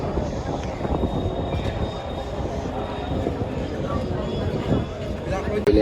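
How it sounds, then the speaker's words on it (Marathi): A train at Patna railway station, a steady rolling rumble with faint squeals, loud and continuous through the whole stretch. "हे पटना स्टेशन आहे, तुम्ही बघू शकता."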